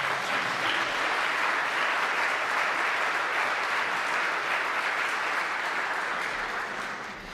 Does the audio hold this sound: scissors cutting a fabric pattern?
no